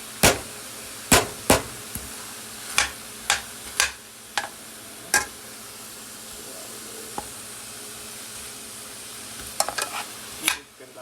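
Ground turkey sizzling in a pan while a metal spoon turns it, with a steady fry hiss under repeated sharp clanks of spoon on pan, close and fairly loud.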